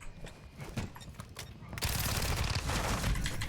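Gunfire in a Call of Duty match, with a dense, continuous burst of rapid shots in the second half, preceded by scattered quieter shots and game noise.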